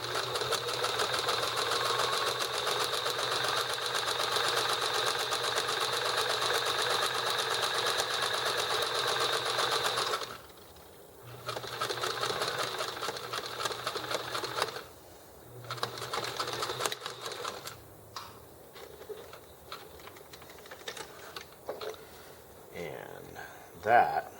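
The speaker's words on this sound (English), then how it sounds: "I'm going to start by back stitching there, and then use this stitch here to line up with" A sewing machine hums continuously as it back stitches a seam on a bag, then runs in shorter bursts with pauses and light handling noises between them.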